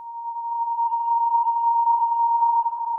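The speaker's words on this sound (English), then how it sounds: "I'm just using the sine wave for that really pure tone" A pure, steady sine tone from the Wavetable synth in Ableton Live holds at one pitch for about three seconds, clean and even, with a slightly rougher, breathier edge creeping in near the end.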